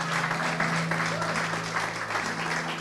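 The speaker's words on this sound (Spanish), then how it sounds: "Dale un aplauso al Señor" Congregation applauding during a church service, a steady dense wash of clapping sustained throughout with a low hum beneath and no clear talk on top.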